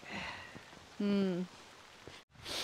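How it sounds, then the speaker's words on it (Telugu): Rain falls on a backyard vegetable garden in America, a soft steady patter throughout, with a voice briefly audible in the middle. "మేమైతే వర్షంలో తడుస్తున్నాము."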